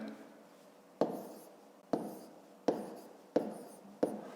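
A pen scratching numbers onto paper during a math exercise, five sharp strokes at irregular intervals, each a quick scrape that fades, close and quiet against a silent room.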